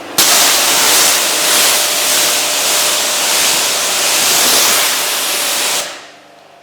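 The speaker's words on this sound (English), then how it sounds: "Let's first check out the before situation by rinsing the windshield." Water sprays in a loud, steady hiss against a car windshield during a rinse, close and continuous for about six seconds before cutting off abruptly, with no talking over it.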